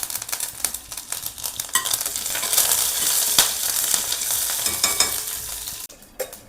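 Curry leaves hit hot oil with urad dal and a chili for a spicy chutney, bursting into a loud, crackling sizzle that swells and holds, with light stirring clinks, then drops off sharply near the end.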